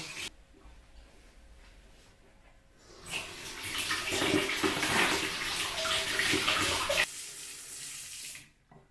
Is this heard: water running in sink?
yes